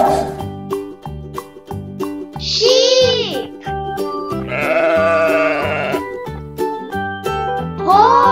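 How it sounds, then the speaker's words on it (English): Sheep bleating in a farm animal sound set for toddlers, with a few wavering bleats rising clearly over a steady, bouncy children's music backing. "Sheep."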